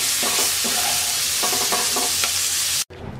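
Prawns frying in hot oil in a kadai, a loud continuous sizzle broken by repeated scraping stirs of a spatula, ending suddenly.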